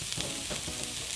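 Potatoes frying in a pan give a loud, close, continuous crackling sizzle with the hiss of hot fat, steady across a brief moment, with no one speaking.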